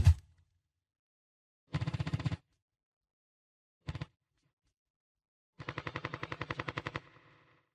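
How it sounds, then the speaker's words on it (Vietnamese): A Bushmaster autocannon firing in combat, heard as a few short spaced bursts of rapid heavy thumping shots, then one longer sustained burst, each cutting off into silence. "tất cả đều diễn ra dưới hỏa lực từ pháo Bushmaster"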